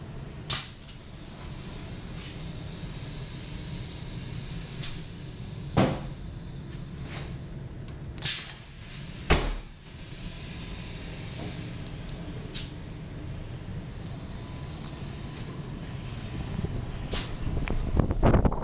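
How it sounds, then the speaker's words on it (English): Small doors of a DD-AR 7444 double-deck train coach opening and closing, a series of sharp mechanical thuds and clunks spaced every few seconds over a low, steady background hum, close and alone. "this is the opening and closing of the small doors in a DDR."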